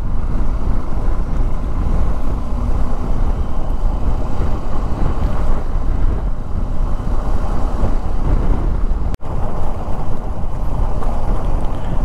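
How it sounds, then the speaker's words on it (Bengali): Loud, constant wind rush buffets a motorcycle rider's helmet during a Himalayan ride, a steady broadband roar with one brief dropout near the end. "হেলমেট ভেদ করে চলে যাচ্ছে মনে হচ্ছে হাওয়া।"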